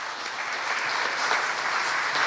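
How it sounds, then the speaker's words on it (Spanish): Steady applause from a conference audience at a presentation on Lima and Callao's Metro Line 2 project, a dense wash of clapping that holds evenly and swells slightly toward the end. "Fuerte el aplauso para él."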